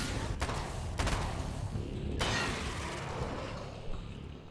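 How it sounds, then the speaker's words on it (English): Several sharp SMG shots in Alan Wake's American Nightmare, each a distinct burst at a moderate distance, set against a steady rumbling game ambience. "Alright, let's use this SMG, see what this looks like."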